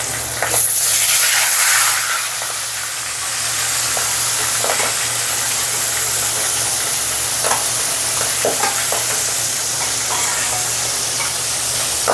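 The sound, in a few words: pangas fish pieces frying in hot oil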